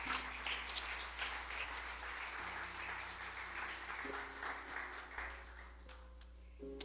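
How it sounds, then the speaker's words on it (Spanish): A church congregation applauds steadily for several seconds, a dense wash of clapping over sustained keyboard chords. "Dale un aplauso al Señor,"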